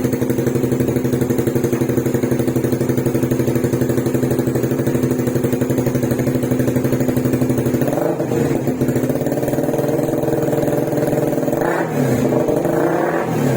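Suzuki Raider 150 Fi motorcycle with an Akrapovic exhaust fitted with a silencer, idling close up with a steady rapid throb, then two sharp throttle blips rising and falling near the end.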